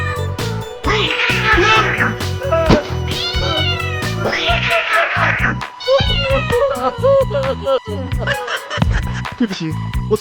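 A cat meows again and again, loud and close, with several drawn-out, rising and falling calls in quick succession and brief scratchy noises between them.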